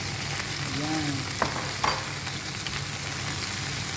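Eggplant frying in hot oil in a home kitchen, a steady close hiss of sizzling with a couple of brief clinks from a utensil, no talking.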